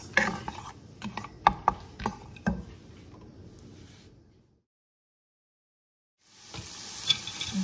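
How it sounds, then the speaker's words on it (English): A spoon scrapes and clicks in a pan of peas and carrots cooking for fried rice, with irregular stirring taps and a soft sizzle, then a short silence before the faint sizzling returns. "The vegetables are cooking good, or the peas and carrots are cooking good."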